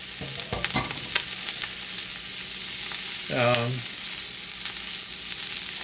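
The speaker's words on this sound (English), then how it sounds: "It's fairly hot, so it's getting a really good sear." Seasoned pork chops sear in a hot cast iron pan with a loud, continuous crackling sizzle, punctuated early by a few sharp pops and clacks, and a brief tonal squeal midway.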